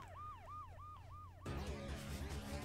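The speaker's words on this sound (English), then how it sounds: "how are you making that siren noise?" A wailing siren from the Sonic Adventure 2 video game sweeps up and down in a steady repeating cycle, then a louder burst of game noise and sound effects crowds in over it.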